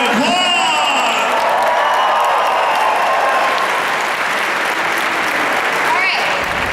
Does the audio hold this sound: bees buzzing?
no